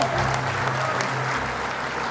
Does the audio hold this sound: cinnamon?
no